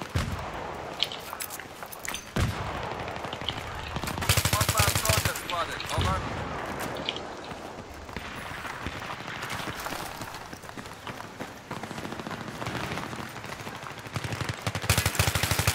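M4 Carbine with ACOG sight firing in Battlefield 3, with bursts of automatic rifle fire scattered through a busy battlefield mix, some shots loud and close, others further off, with faint voices in the background.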